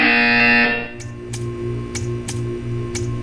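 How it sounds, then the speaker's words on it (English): A sustained electronic buzzer tone in the video game Portal stops abruptly, followed by a run of evenly spaced sharp clicks over a low humming drone. "You will hear a buzzer."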